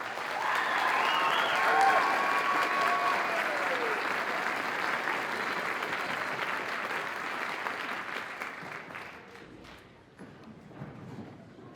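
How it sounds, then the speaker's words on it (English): Audience at a school sixth grade band winter concert applauds loudly and steadily, a dense wash of clapping from a large crowd that slowly thins and fades toward the end. "A big round of applause for our 6th grade band students."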